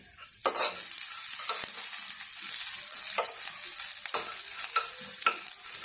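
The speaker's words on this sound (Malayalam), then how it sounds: "നിലക്കടലയൊക്കെ പച്ച വാസന മാറുന്ന വരെ വളച്ചെടുക്കണം ജീരകം ഒരു അര ടീസ്പൂൺ ചേർത്ത് കൊടുത്തു" Peanuts and half a teaspoon of cumin sauté in a pan for sambar, giving a constant bright sizzle close by, punctuated by about ten crisp scraping strokes of a spoon at a fairly even pace, with no speech.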